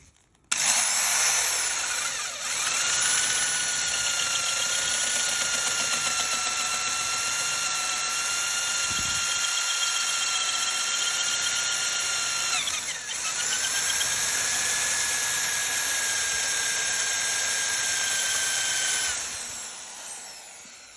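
A hole saw bores through 1.5 mm AISI 201 stainless steel sheet, a loud, steady high-pitched drilling whine that runs almost unbroken for about twenty seconds, with a short dip midway and near the end.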